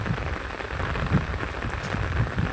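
Heavy rain pours down steadily, a dense, close hiss of drops drumming on surfaces with occasional heavier splats, continuous and without voices.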